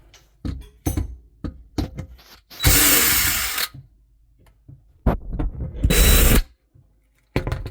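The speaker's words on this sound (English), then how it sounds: "I'm gonna remove those two screws." A power screwdriver backs screws out of the bottom of a Samsung dishwasher: two loud whirring bursts, separated by quieter clicks and handling knocks, with no talking.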